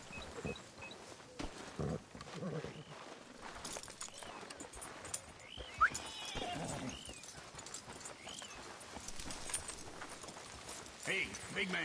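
Horse hooves and an occasional whinny from the Red Dead Redemption 2 video game, fairly faint under continuous character dialogue and ambient game sounds.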